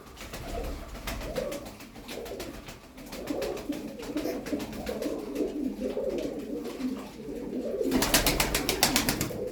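Tumbler pigeons coo in soft, throaty bursts throughout, close by, with wing flutters and rustling breaking in near the start and end.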